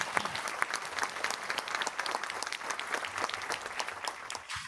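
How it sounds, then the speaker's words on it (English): Audience applause after a forum session at an EMBA 40th anniversary event, dense steady clapping from a mid-sized crowd, moderately quiet and sustained for a few seconds before fading. "let's give another round of applause for the great"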